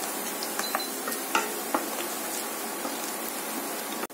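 Onions fry in oil, giving a continuous close sizzle with a dense hiss and occasional small pops and clicks, steady throughout with no talking.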